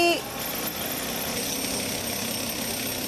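A bulldozer tears down a former MP's building in Lucknow, with a steady, loud mechanical engine drone that runs without a pause, close and dense.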